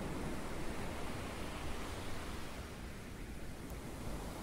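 Soft ocean surf washes in a continuous, even rush of noise, distant and low for meditation, with no distinct breaking crests and no voices.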